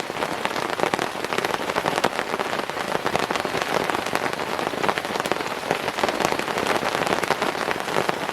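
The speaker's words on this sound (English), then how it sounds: "If it's still raining when we get done with this little clip here, I might just turn on the camera and record this rain." Steady rain falls in the woods, a dense, even patter of countless drops hitting leaves and surfaces, continuous and close with no voices.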